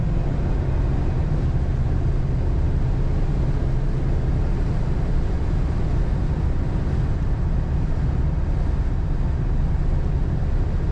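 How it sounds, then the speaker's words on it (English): A 1950 Lincoln Sport Sedan with automatic transmission drives along, its steady low engine and road rumble continuous and fairly loud with wind noise, as the transmission kicks down. "Kick down working on that automatic transmission."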